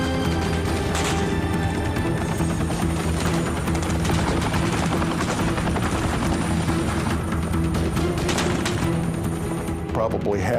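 A helicopter in flight with a loud, close, constant rotor thump and turbine whine, dense with rapid chopping pulses throughout and a faint voice underneath.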